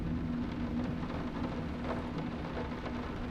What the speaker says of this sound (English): I don't think it's gonna rain for the rest of the game